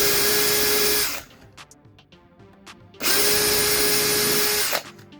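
Power drill boring into the adjusting pieces of an electrical cupboard door on a boat under restoration: two loud, steady whirring bursts of about a second and nearly two seconds, split by a pause filled with small knocks and handling noise.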